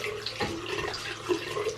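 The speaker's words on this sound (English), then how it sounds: "the water is now running clear" Cold water runs from a sink tap while a brush is rinsed clean, a soft, steady splashing stream at close range, fairly faint, with no voices.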